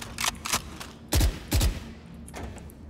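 Gunfire in the video game Valorant: a few separated shots, then two heavier booming bursts and a fainter one near the end, fairly quiet overall with no talk.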